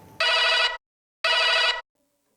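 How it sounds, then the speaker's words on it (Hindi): A telephone ringing as a call is placed: two loud, bright electronic rings of about half a second each, separated by a short pause, close and clear with no voices. "कैमरा जी, अन्ना हजारे जी को फोन लगाया जाए"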